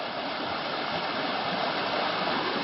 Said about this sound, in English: we're going across Stover Creek right here